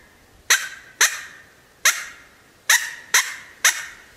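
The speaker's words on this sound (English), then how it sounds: "My tongue kind of follows there as it blasts out through the call and just touches the end of the reed. That stops the reed. That makes that an abrupt chirp sound." Coyote reed call blown in six short, sharp chirp-like barks, each abrupt and clipped, spaced unevenly about half a second to a second apart, close and clear against a quiet background.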